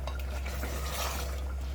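Cashew paste stirred into mutton korma in a pan: a short stretch of soft, thick scraping and squelching, close and continuous over a low background hum.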